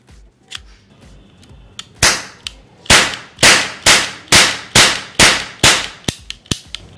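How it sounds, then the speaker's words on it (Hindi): A toy Diwali gun fires roll caps loaded into a ring cap: a fast run of about eight loud, sharp cracks in close succession, followed by a few quieter pops, with no talking. "और अब देखिए पूरे रिंग कैप में रोल कैप को लगा दिया है। तो अब इसको चला के देखते हैं कैसा चलता है।"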